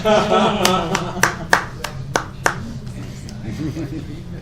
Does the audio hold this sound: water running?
no